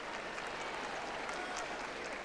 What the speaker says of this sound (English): Tremendous ovation for the young West German teenager.